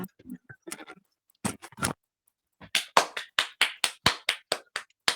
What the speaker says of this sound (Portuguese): Uma salva de palmas a Jesus, não é?